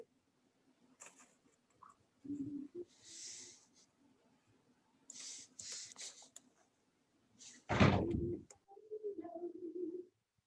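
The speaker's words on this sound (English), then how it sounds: "I'm gonna close the door." A classroom door swings shut with a single loud, low thud partway through, otherwise a quiet room with faint breathing and rustling.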